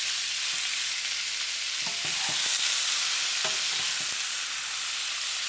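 Beef browns in an oiled pan with a steady, bright sizzle throughout, broken by a few soft scrapes of stirring.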